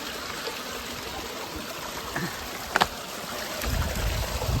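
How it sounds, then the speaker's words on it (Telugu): Forest stream water rushing and trickling nearby in a continuous flow, with a brief knock partway through and the flow swelling louder toward the end. "ఇక్కడ నుండి అయితే స్వచ్ఛమైన వాటర్ అయితే వస్తుంది"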